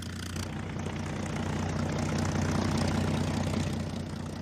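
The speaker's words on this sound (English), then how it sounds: "a group of US Wildcat fighters and Dauntless dive bombers flew in" WWII US Wildcat fighters and Dauntless dive bombers fly over with a loud, steady propeller-engine drone that holds throughout and swells slightly in the middle.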